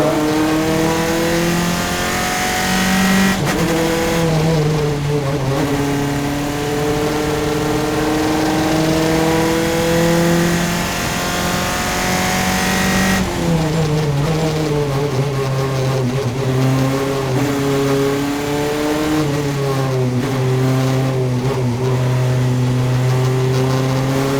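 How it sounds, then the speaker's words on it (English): A single-seater race car at a memorial race qualifying session holds a loud, sustained engine howl on track. The pitch climbs steadily, then drops sharply at two clear upshifts before climbing again, with no voices. "He's shifted the gears very automatically. Well, let's try and listen to that engine."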